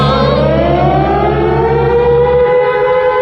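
A loud civil defense siren wails, its tone rising slowly over a low mechanical drone that cuts out near the end.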